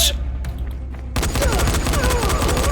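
Sudden burst of sustained rapid full-auto gunfire in the video game Dying Light breaks out after a brief quieter moment, loud and continuous with a dense, rattling roar.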